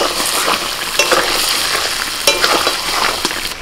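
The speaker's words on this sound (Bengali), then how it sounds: "আদা রসুন বাটা, আলুর সাথে এই মশলাগুলোকে 2 মিনিট নাড়াচাড়া করে নেব।" Potato pieces coated in ginger-garlic paste and ground spices fry loudly in a pan, a dense close sizzle with rhythmic scraping as they are stirred, no voices.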